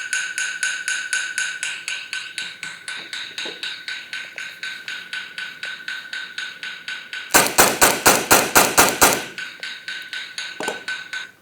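A metronome clicks rapidly at 240 beats per minute, evenly spaced clicks repeating throughout, with a louder, sharper burst of fast taps in the middle before the steady ticking resumes.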